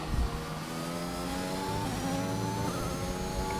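A race car on a lap on soft tires in a racing video game at Belgium, its engine note revving continuously and climbing steadily in pitch, loud and close with no voices.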